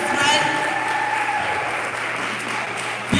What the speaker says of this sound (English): You ought to clap one more time with Brother Yasir.